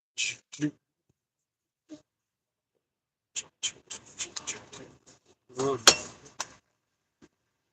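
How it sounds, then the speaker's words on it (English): Several sharp metallic clinks and rattles from an aluminum water bottle come in scattered bursts with silent gaps between them, close and fairly crisp. "That was the sound of one of my aluminum water bottles."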